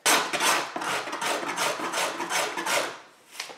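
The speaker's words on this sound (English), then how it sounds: "So the next thing to do is to scrape this so it's nice and smooth" Carved violin wood being scraped smooth with a scraper, a series of close, rhythmic rasping strokes in quick succession that fade out near the end.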